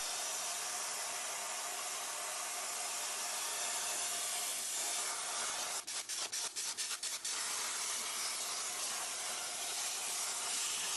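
Plasma torch cutting the last piece of steel for a shop stool, a steady loud broadband hiss running throughout, broken near the middle by a quick series of sharp sputtering pops.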